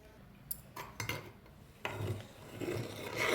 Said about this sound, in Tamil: இதை நம்ம நல்லா கலக்கி விட்டுக்குவோம்